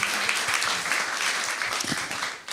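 An audience applauds as two speakers, a cultural scholar among them, come forward at a feminist panel event, with dense, steady clapping filling the room throughout.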